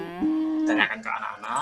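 A cow moos in a single drawn-out, low lowing call inside a PowerPoint presentation animation for kindergarten teaching, followed by someone talking.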